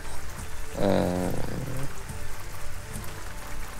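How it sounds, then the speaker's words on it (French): Steady hiss of heavy rain pouring down, with a brief low rumbling, roaring sound rising and fading in the middle. "Il pleut très fort."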